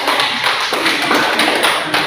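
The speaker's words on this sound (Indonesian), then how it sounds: "Tepuk tangan" Dense, continuous applause from a group in a classroom setting, many hands clapping at once with no distinct rhythm, loud and close without talking.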